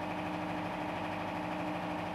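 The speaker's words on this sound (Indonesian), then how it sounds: "Di depan Oppo None ini ada mesin generator." A crank-started generator engine with a 15 kW alternator runs at a steady, even drone, close and continuous, with no voices.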